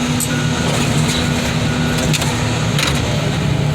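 An engine runs at a steady, loud, raised speed without dropping back to idle, a continuous drone with a low hum throughout.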